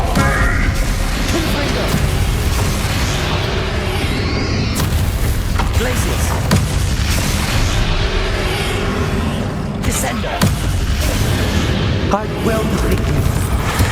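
A Confringo fire spell blast in the Hogwarts Legacy video game, loud booming explosive bursts layered over continuous battle noise and music, with voices speaking throughout.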